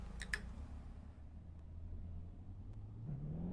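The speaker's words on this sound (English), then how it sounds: "The turbos spool up." Turbos on a Ferrari 488 GTB spool up in a driving video game at Laguna Seca, a steady low engine drone holding through, rising slightly in pitch at the end, with a couple of faint ticks early on.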